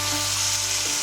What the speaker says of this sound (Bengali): এখন আমরা কড়াইয়ের উপর যোগ করবো সামান্য পরিমাণ জল